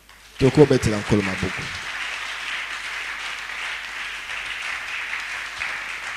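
A church congregation applauding and cheering in acclaim of the Lord during a French-language sermon, a burst of strong clapping and shouts that quickly thins into a long, soft, steady patter of scattered hand claps.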